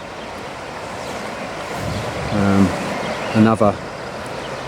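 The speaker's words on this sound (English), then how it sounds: "just to show how much water's bombing through these rivers" Fast-flowing water of the Loire river in France rushes in a constant broad wash, while a voice briefly speaks over it.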